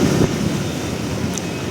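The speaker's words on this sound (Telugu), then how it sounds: "ఇండియన్ ఆర్మీది హెర్క్యులస్ పెద్ద ఫ్లైట్." A large Indian Army Hercules transport plane flies overhead, heard as a steady, loud, broad rumble mixed with wind buffeting on the microphone, with no talk.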